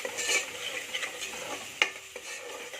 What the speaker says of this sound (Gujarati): તો ચાલો બધું આપણે આમાં મિક્સ કરી દઈએ।